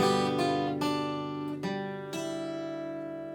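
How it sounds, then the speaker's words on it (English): Slow guitar strumming, with each chord's strings ringing out one after another and sustaining; about five unhurried strums, no voices. "slow that strum down, okay, so you can hear the individual strings coming through"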